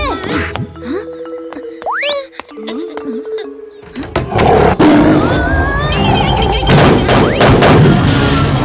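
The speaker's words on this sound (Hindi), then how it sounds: "बाहर भालू है।" A cartoon bear lets out loud roars among punchy thumps, whooshes and sliding comic sound effects, then a dense burst of growling and crashing cartoon chaos follows.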